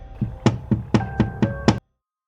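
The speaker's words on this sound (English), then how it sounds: "Suddenly, I realized that something was knocking on the window." Six sharp knocks rap on a window in an uneven rhythm, close and loud, each with a short hollow ring, ending abruptly in silence.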